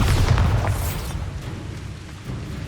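A Bombarda blasting spell from the Hogwarts Legacy video game goes off as a loud, deep boom with a bright burst, then a rumbling decay that fades over a couple of seconds, with no voices.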